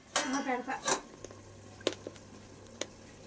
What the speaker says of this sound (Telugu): మూత పెడుతున్నాడు మా అబ్బాయి.